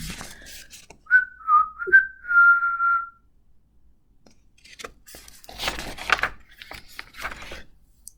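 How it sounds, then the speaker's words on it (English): A person whistles a short melodic tune of a few rising and falling notes, clear and close, followed by quieter shuffling and rustling sounds. "He whistled all the way there, and he whistled all the way home."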